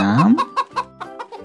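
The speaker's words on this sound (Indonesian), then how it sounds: "Ada tujuh ayam." Chickens in a garden give a rising squawk followed by a run of short, evenly spaced clucks, close and clear with no talk over them.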